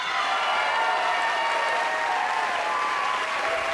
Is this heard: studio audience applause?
yes